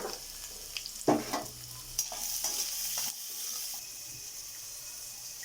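Beetroot curry is stirred in a pan, with scraping strokes of the spoon over a soft frying sizzle. The strokes come in irregular bursts and stand close and clear.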